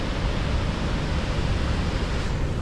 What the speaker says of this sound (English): stood at about 9 AM in front of a waterfall